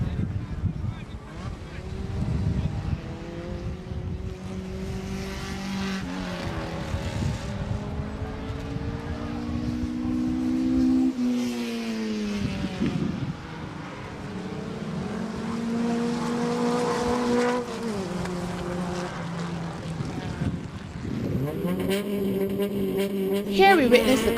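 Honda race cars at the BARL Easter Monday race meet in 2012 roar past together, their engine notes climbing and dropping through gear changes in a loud, continuous, overlapping drone.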